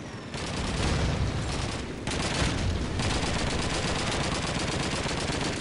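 Dense video-game gunfire from the World War II shooter Call of Duty 2, continuous bursts of rifle and machine-gun shots at steady loud volume with short gaps, no talking.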